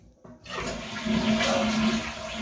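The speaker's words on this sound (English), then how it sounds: "flush the toilet" A short click, then a toilet with a running-water fault flushes with a loud rushing surge of water that holds steady, with a faint gurgling tone underneath.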